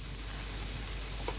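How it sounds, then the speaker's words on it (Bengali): Red lentils fry in hot soybean oil in a village kitchen, a loud continuous sizzle with a bright hiss throughout and a brief stirring scrape near the end, no talking. "আমরা এখন সয়াবিন তেলের মধ্যে মসুরি ডালটা দিয়ে দিলাম।"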